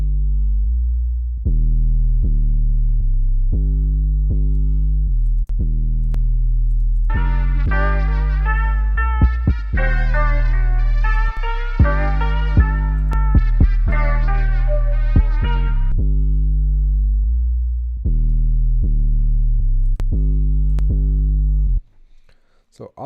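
Compressed 808 bass notes boom in a Spanish trap/drill beat, deep sustained tones stepping through a pattern. A brighter melodic section joins in the middle, then the bass carries on alone before the beat stops near the end.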